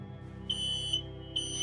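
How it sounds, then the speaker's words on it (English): An overly sensitive household smoke detector sounds off, with two loud sustained high-pitched beeps separated by a short gap over a faint low hum. "Alarm's going off."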